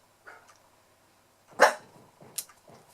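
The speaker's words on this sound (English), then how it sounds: "My dog's barking as usual" A dog barks indoors, a few sharp barks with pauses between them, fairly close and loud against an otherwise quiet room.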